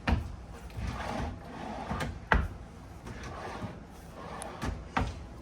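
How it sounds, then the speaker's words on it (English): Drawers beside the stove and oven in a 2026 Forest River Sierra 4002FB fifth wheel are slid open and shut several times, giving a series of sharp knocks and thuds with sliding rumbles between them, close by. "3 drawers going down either side of your stove and oven. They both open up."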